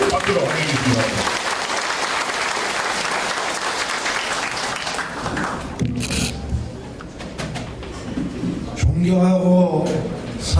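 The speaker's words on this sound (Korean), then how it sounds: "여러분 뜨거운 박수로 환영해주십니다" A crowd at a campaign rally in Yeosu applauds to welcome a mayoral candidate, a dense, loud roar of clapping that fills the first several seconds, then thins out as speech over a loudspeaker takes over.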